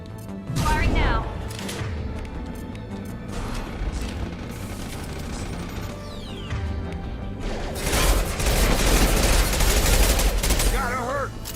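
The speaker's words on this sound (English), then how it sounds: "Firing now." Rapid bursts of gunfire and mechanical clatter fill a Mass Effect Legendary Edition firefight, continuous and fairly loud, with louder volleys near the end and voices talking over the action.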